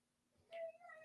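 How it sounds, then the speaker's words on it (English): A house cat howls indoors, one drawn-out wavering yowl rising from near silence, fairly close and clear, with a little faint talk just before it. "oh, my cat's howling for some reason"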